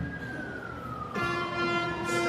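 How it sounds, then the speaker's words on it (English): Emergency siren passing by on a street, a wailing tone that slides downward, then a louder, brighter blast with a horn-like note as the vehicle draws near, heard alone without talk. "oh, we got a little siren coming back."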